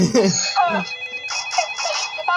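A mobile phone rings with a repeating electronic tone that follows a brief burst of voices, its bright pulses carrying on steadily to the end.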